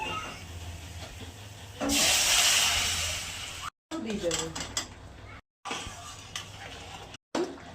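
Hot water is poured into sizzling masala for a thin Bengali egg curry. A loud burst of steam and hiss rises briefly, then fades into quieter pan clatter broken by abrupt cuts.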